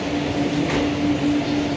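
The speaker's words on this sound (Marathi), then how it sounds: "आपल्याकडेच बघते बघा, मालगाडी आहे." Loud, continuous rumble and rattle of a freight train rolling past close by on the Konkan Railway, with a faint steady whine above the noise.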